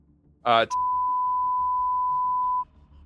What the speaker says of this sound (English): Just beep it out.